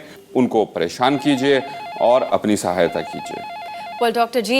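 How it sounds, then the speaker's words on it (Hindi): A telephone rings on and on in a steady warbling pattern, sitting beneath continuous talking from a man and woman throughout. "फोन की घंटी लगातार बज रही है"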